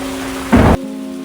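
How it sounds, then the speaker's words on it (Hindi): Steady heavy rain hisses over a low hum, with a brief, louder rushing burst partway through. "बाहर बहुत तेज बारिश हो रही थी"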